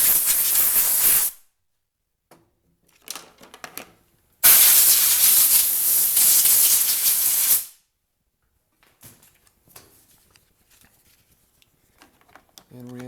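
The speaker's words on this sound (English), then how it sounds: "you can blow this off with compressed air" Compressed air blasts out the air filter housing of a Briggs & Stratton walk-behind lawn mower in two loud, steady hissing bursts, the second lasting about three seconds, with quiet handling clicks and small noises between them.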